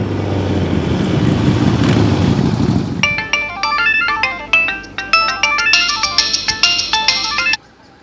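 A phone rings repeatedly with a bright electronic melody, unanswered, after a burst of heavy traffic rumble with a vehicle's air brake hiss; the ringtone cuts off abruptly near the end.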